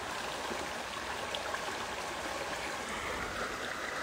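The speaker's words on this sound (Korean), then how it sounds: "물소리" Water flows in an outdoor stream with a steady, soft rushing and trickling hiss, continuous and faint throughout, with no voices present.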